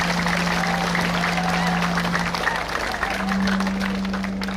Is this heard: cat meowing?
no